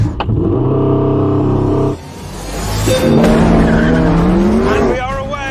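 A Porsche race car launching from the start, loud revving engine that drops briefly then climbs in pitch with tire squeal as it accelerates away, close and dominant, with a voice talking over it.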